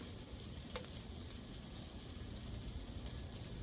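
Ribeye and NY strip steaks sear on a hot Blackstone griddle, giving a steady, even sizzle that continues throughout at moderate loudness with no talking.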